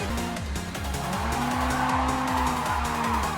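A starter car in the game JDM: Japanese Drift Master drifts, its engine revving in a rising and falling pattern while its tires skid and squeal without a pause.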